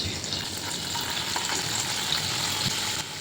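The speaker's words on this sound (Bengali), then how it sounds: "এবার 4 চামচ মাখন আর 2-3 চামচ সাদা তেল গরম করে পনিরগুলোকে ভেজে তুলে" Paneer fries in butter and white oil with a steady, dense sizzle and crackle, close and loud, holding constant throughout with small pops scattered within.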